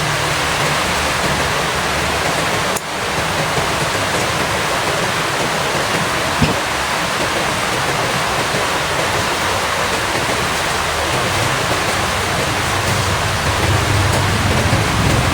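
Steady, dense rushing hiss of heavy rain pouring continuously and loudly at night, with no voices and only a brief dip partway through.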